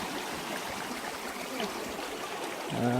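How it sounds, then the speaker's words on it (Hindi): Steady rushing of a glacier meltwater stream on the Baltoro Glacier near K2, a continuous broadband water sound close by, with no voices. "ये ग्लेशियर से पानी मेल्ट होके जा रहा है।"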